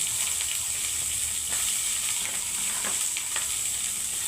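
Thinly sliced green chillies and long-cut onions fry in hot oil, giving a steady, bright sizzle that holds evenly throughout with faint stirring clicks and no voices.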